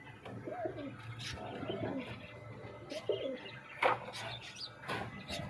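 Pigeons kept for sale give soft, low cooing calls, repeated several times with a few brief chirps and wing sounds, fairly faint at close range.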